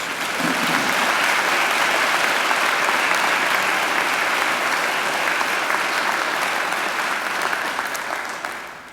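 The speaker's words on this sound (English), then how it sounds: "I think Angela deserves another great round of applause." Sustained applause from a large audience at a university graduation ceremony, steady and loud for about eight seconds before tapering off at the end.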